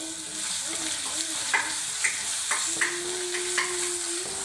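Ginger, garlic and green chilli frying in oil in a pan for a Kerala coconut-based prawn curry, with a steady sizzle, a few sharp stirring clicks and a sustained tone running underneath.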